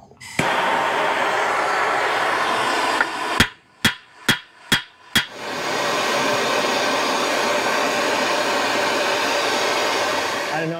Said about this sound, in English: just because I'm using some fire, so I have MAPP gas in here